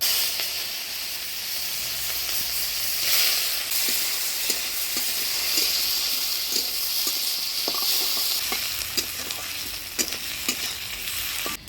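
Chopped onions frying in hot oil with dry red chilli, bay leaf and cumin for a Bengali mutton curry, a steady loud sizzle and hiss broken by occasional clicks of stirring.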